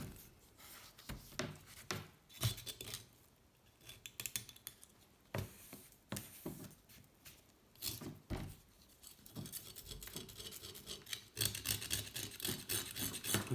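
Deposits being scraped off the piston of a 1984 Honda C70 street cub after tsunami damage: irregular metallic scratching and clinking strokes, close up, continuing steadily with occasional sharper scrapes and no talking.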